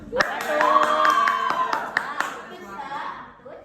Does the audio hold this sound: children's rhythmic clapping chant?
yes